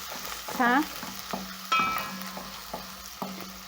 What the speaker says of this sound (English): That is what I'm going to be frying my onions with.